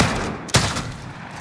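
A single sharp gunshot cracks out in Call of Duty Modern Warfare, loud and abrupt over a noisy in-game background.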